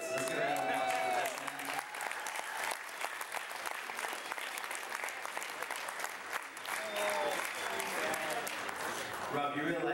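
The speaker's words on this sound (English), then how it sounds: "So let's get a round of applause for that" Wedding guests applauding during a best man speech, a full, sustained round of clapping lasting the whole stretch, with voices and a few whoops mixed in.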